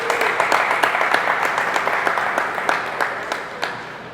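Audience applause in a conference room, a steady wash of many hands clapping at moderate loudness throughout with scattered sharper individual claps and no talk.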